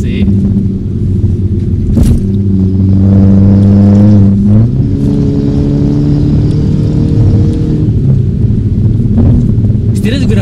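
Mercedes W204 C250 or W212 E400 accelerating hard on a test drive, its engine note climbing through a loud, close rev with a shift partway through, while people talk inside the cabin.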